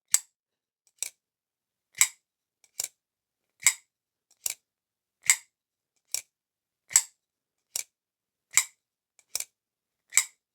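A folding knife is reverse flicked open and closed over and over, each action giving a crisp, loud metallic snap. The snaps come about every 0.8 seconds, close and isolated against silence.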